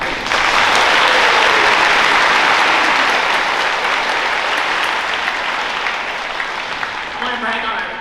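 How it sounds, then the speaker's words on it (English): Loud, sustained applause from an audience at a school faculty awards ceremony fills the hall, steady for several seconds and then gradually thinning out toward the end. "I want to give a round of applause to Dalton"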